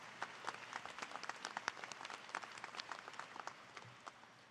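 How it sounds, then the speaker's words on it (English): Scattered applause from the audience at a university commencement ceremony, faint and distant, with loose individual claps over a soft crowd wash that fades toward the end. "Please give them a round of applause."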